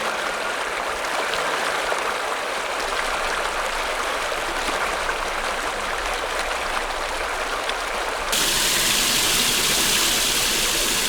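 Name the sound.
mountain valley stream flowing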